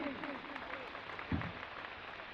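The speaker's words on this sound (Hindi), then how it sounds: "जोरदार तालियां" Audience applause breaks out at a public speech honoring Emperor Ashoka, a steady wash of clapping across the whole short stretch, with a speaking voice over it at the start.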